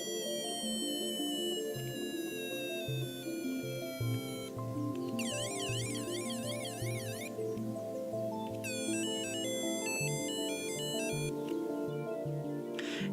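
Electronic sound effects chirp from a McDonald's Inspector Gadget build-a-figure toy chest communicator, a steady stream of synthetic warbling tones and beeping sweeps, sounding somewhat muffled and faint throughout.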